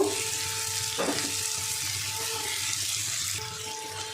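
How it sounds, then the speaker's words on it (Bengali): Hot water goes into a pan of frying potato and pumpkin curry, producing a loud, continuous sizzle and bubbling hiss with a short splashy burst partway through and a steady faint hum underneath. "গরম জল দিয়ে দিলাম"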